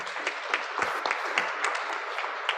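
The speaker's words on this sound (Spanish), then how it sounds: "Un aplauso." Audience applauding at an MBA programme panel event, a scattered crowd of hands clapping with distinct sharp claps over a steady patter, moderately quiet and fairly short.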